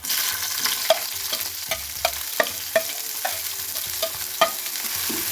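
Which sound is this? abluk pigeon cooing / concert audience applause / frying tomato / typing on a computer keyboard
frying tomato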